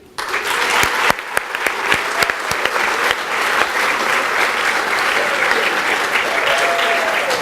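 A large college-day crowd applauds continuously, with sharp individual claps standing out early over a thick, even wash of clapping that holds steady throughout, heard close and loud.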